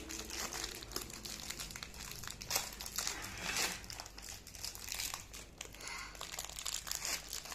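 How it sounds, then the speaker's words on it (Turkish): A wrapper around a chocolate wafer snack from Prague is torn open and handled, giving close, continuous crinkling and crackling of plastic packaging with no speech. "Bu da bence çikolatalı gofrete benziyor. Açalım."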